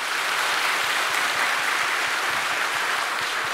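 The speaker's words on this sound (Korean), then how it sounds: "여러분이 힘찬 격려의 박수 부탁드리겠습니다." Church congregation at a presbytery ordination service breaking into steady, dense applause, loud and sustained throughout with a faint rhythmic thump underneath.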